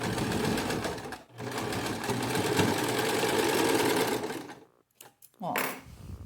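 A sewing machine stitching a cushion with piping runs in a fast, steady close-up whir for several seconds, stops briefly, then resumes before cutting out, followed by short bursts of handling and a brief restart.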